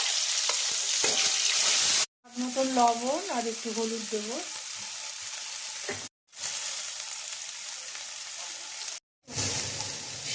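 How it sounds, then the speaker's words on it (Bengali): Ground flat bean (shim) paste fries in hot oil in a wok, a close, steady sizzle that runs almost without a break, with a voice speaking briefly over it. "কড়াই তেল দিয়ে দিয়েছি, তেল গরম হয়ে গেছে। এবার শিম বাটাটা একটু আগে দিয়েছি।"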